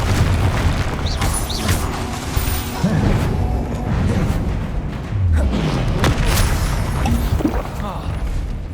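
Confringo spell blasts in the video game Hogwarts Legacy land as repeated booming explosions and crashes amid dense combat noise, loud and continuous, with shouted voices over the action.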